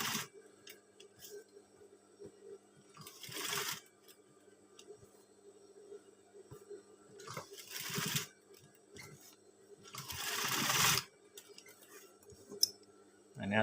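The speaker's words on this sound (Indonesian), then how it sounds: "ini kita jahit sekalian yang sebelah sini" A sewing machine stitches a name attribute onto a Scout uniform in short bursts of rapid mechanical whirring, separated by quieter pauses and small ticks, with no talking.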